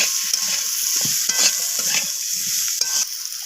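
Spices with red chilli powder and cumin powder are stirred and fried in a pan for a mixed-vegetable prawn chochchori, a loud, continuous sizzle with scraping and clinking of the spoon, close up and without talk.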